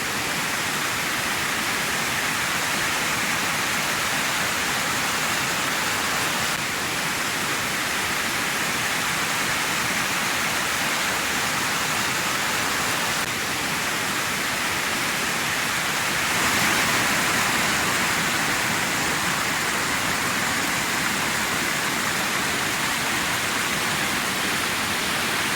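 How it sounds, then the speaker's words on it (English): A steady, full roar of Wilhelmina Falls in Murrundindi, Victoria, Australia, fills the entire stretch, constant and enveloping with no other sounds breaking through. "you can hear the waterfall in the background"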